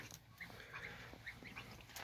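Several short honking calls from geese, scattered over a low outdoor background hum, fairly faint and close together.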